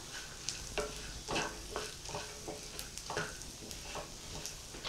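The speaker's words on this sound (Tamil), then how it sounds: "இப்போ இதெல்லாம் சேர்த்து ஒன்றா மிக்ஸ் பண்ணிடலாம்" Turmeric, chili powder, salt and asafoetida being stirred into a poha mixture in a pan, soft repeated scraping strokes over a faint sizzle, quiet and close, with no one speaking.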